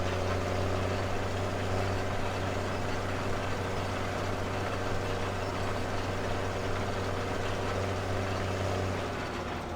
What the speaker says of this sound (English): this is a very interesting cultivator. It does actually have to be turned on